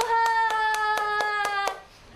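Children clap at a Sunday church service, about seven evenly spaced claps in steady rhythm, loud and close, over a sustained musical tone that fades at the end.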